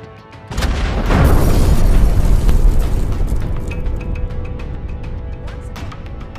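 Fragmentation bombs explode on a target in an airstrike, a sudden loud deep boom that swells into a long rumbling roar and slowly decays, with scattered crackling bursts trailing off.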